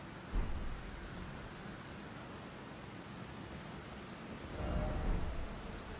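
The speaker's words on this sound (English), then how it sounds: "The sudden sound of torrential downpour kind of threw me off there." Torrential downpour with thunder in Elden Ring Shadow of the Erdtree: a steady wash of heavy rain fills the scene, with a low thunder thump near the start and a louder rolling rumble swelling near the end.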